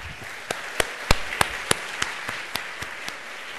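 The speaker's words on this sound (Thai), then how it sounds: "และขอเสียงปรบมือให้กับครอบครัวว่องกุศลกิจด้วยครับ" Applause from an audience at a Thai lecture event, a steady crowd clapping bed with several sharper single claps popping out at a regular, slightly slowing pace.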